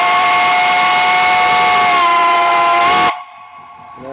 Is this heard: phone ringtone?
no